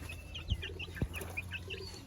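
Chickens cluck softly in a small backyard colony, a few short clucks and chirpy calls close by over a quiet low hum, with two brief thumps.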